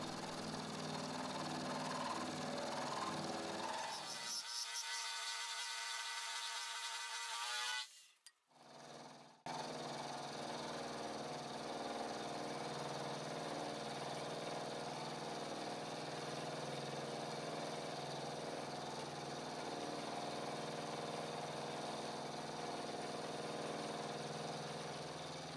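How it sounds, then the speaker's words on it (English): A small, low-powered milling machine cuts metal with a roughing end mill, a steady close motor whine and cutting chatter that briefly dips to near quiet midway, then resumes evenly. "My little mill is not powerful, so I've got to go slow and steady and take relatively shallow passes,"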